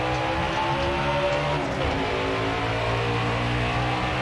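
NASCAR Heat 5 video game race car engines at Las Vegas drone continuously at high volume, overlapping tones shifting slightly as cars run together.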